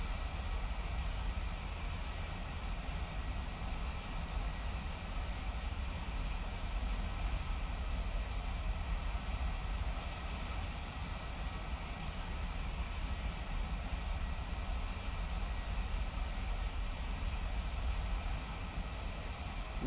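Aircraft engines in War Thunder drone continuously for the full length, a steady, dense, low-heavy roar with no breaks, moderately loud and uniform, with no voices over it.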